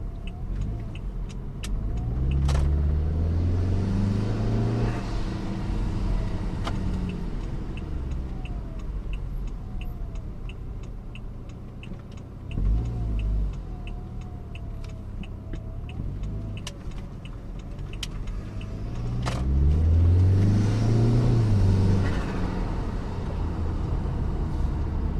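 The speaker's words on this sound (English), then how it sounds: "Rumbling from the exhaust." Tuned Saab 9-5 with stock mid silencer, its exhaust rumbling steadily through repeated acceleration pulls, close and fairly loud, with engine note rising and falling over about twenty-five seconds.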